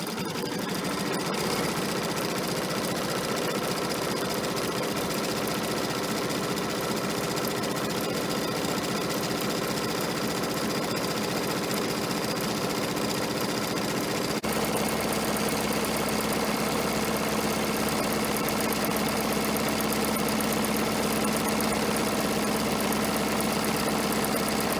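An embroidery sewing machine stitching a Fourth of July banner in its hoop, a fast continuous mechanical whir and rattle with a slight shift in pitch partway through, close and steady, no voices.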